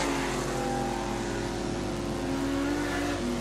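Modified sedan race cars at Gympie Speedway, a dirt oval, with a constant loud engine roar and layered revving tones from several cars running together.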